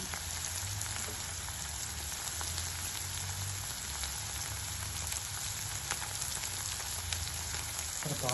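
Dried shark fish frying in hot oil, a steady close crackling sizzle with dense popping that holds evenly throughout, no voices over it.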